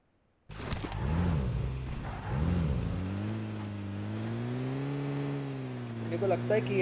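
A vehicle drives across the Erangle map in the video game PUBG, its engine giving a steady droning hum that wavers slightly in pitch as it moves, loud and continuous after starting abruptly.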